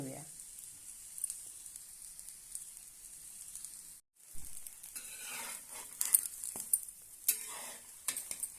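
A bajra and methi thalipeeth topped with white sesame seeds roasts crisp on a pan: a soft, faint sizzle with scattered scraping and tapping of a utensil, briefly dropping out midway.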